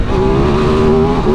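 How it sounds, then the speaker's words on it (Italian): A Ducati DesertX's 937 cc V-twin engine holds a steady, loud, throbbing rev with a strong low tone, close by and continuous, with no voices. "c'è questo sound del bicilindrico V2 937 cc che è qualcosa di unico"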